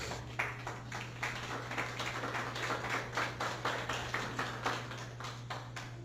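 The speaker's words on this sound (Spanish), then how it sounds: "dale ese aplauso a Dios." A church congregation claps in a slow, even rhythm during a sermon, each clap distinct and moderately near over a low steady hum.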